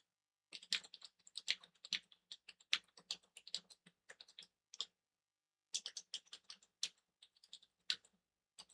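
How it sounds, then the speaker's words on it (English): Rapid clicking of computer keyboard keys in two bursts of typing, separated by a brief pause, close and crisp with no voices. "I'm typing something out, and then I'll get to you."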